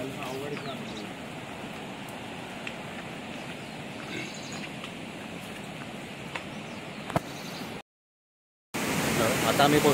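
A small river runs through monsoon forest in the Konkan, giving a steady, close broadband rush of flowing water that cuts out briefly near the end before returning louder.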